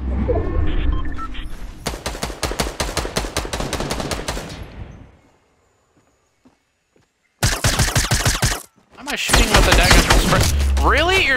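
Rapid automatic gunfire in a shooter video game with the player taking hits, long loud rattling bursts, a quiet gap, then renewed firing mixed with other effects.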